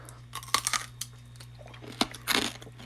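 Crunchy chewing of fried Southern fatback: close, irregular crisp crunches and bites in quick bursts over a low steady background hum, with no speech.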